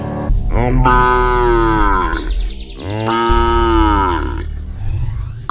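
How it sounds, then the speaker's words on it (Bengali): A cow moos loudly in two long, drawn-out bellowing calls, one after the other, close and strong with no talking over them. "তাই দেখে গরুটা জোরে জোরে ডাকছে।"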